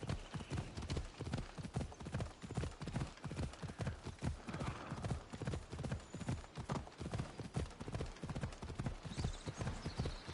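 In Assassin's Creed Odyssey, a horse gallops along a road, a fast, steady clip-clop of hooves that continues evenly throughout, fairly quiet, with occasional faint snorts.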